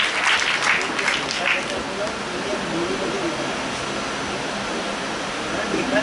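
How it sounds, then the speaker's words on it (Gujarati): Broad, steady audience applause fills a hall at a centenary memorial event for Narayan Desai as a speaker is welcomed to present a book. The clapping is loudest early, then settles into a dense, even wash. "કૃપા એમને તાળીથી વધાવો."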